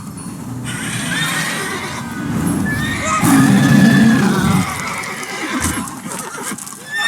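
A horse in The Witcher 3 neighs loudly and snorts while its hooves clop and shuffle nearby, with game ambience underneath and a long whinny in the middle.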